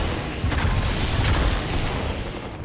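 Grenade explosions in the Halo 2 video game, a dense dull rumble of overlapping booms and bursts running steadily throughout with no clear gaps.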